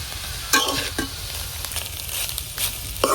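Carp fish roe fries in a pan with a steady soft sizzle, broken by a few sharp scrapes and taps of stirring close by.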